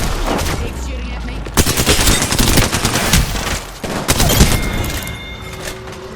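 Dense automatic gunfire and shotgun blasts from the battle royale shooter Apex Legends, loud and continuous with bursts of rapid shots and heavier booms throughout.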